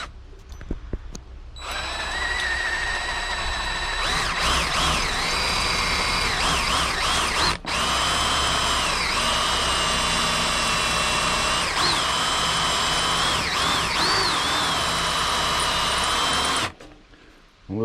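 A power drill bores a hole through a Duke #3 trap, running with a steady high whine for about fifteen seconds, its pitch dipping briefly under load, with a short pause partway through.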